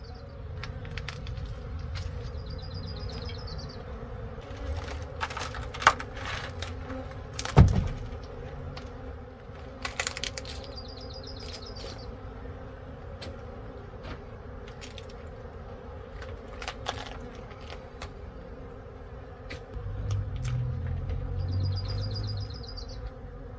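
Honey bees buzz steadily around an opened hive holding a large swarm, a continuous close drone with occasional louder passes and a few knocks, no talking.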